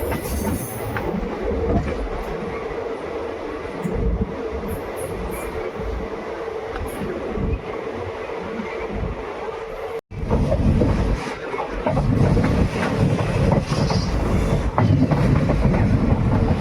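The Bikaner–Delhi Sarai Rohilla SF Express (22471) runs on rails near Shri Dungargarh with a loud, continuous rumble and wheel roar, a brief cut in the middle, then a heavier clattering passage with faint squeals, nearby and steady throughout.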